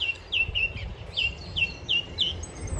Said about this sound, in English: I don't know what that bird is, but it's half noisy.